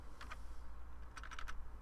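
Quick bursts of keystrokes clack on a computer keyboard, a couple of taps and then a faster run, close over a steady low hum.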